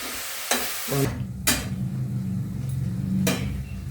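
Potatoes and pumpkin leaves frying in oil are stirred in a pan, with sharp spatula scrapes and clanks against the metal over a continuous close sizzle.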